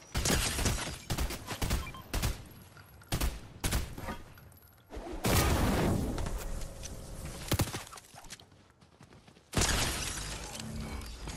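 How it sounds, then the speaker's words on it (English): Fortnite gunfire crackles in rapid bursts and sharp volleys, with impacts and shattering debris between them; the shots are fairly loud and sit close by, with no voices. "There's another team that's shooting from behind us"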